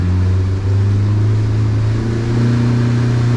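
A Yamaha F90 outboard pushes a 2023 Arima Searanger 19 boat at cruising speed, giving a loud, steady low engine drone with no one speaking.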